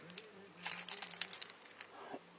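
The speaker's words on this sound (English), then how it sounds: "Now I grab my keys," Small metal keys for a door release system jangling and clinking close by, a burst of bright rattling taps lasting about a second and a half over a quiet background hum.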